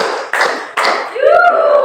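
In a classroom, a group of students claps in unison on cue, giving two sharp, loud collective claps about half a second apart, followed by a sustained tonal voice.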